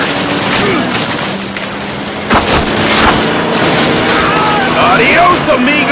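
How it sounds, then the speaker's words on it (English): Gunfire in Call of Duty at a German roadblock in Normandy, with repeated loud shots and booming fusillade bursts under voiced dialogue, mixed with battle ambience throughout. "How about you try and shoot the bastard?"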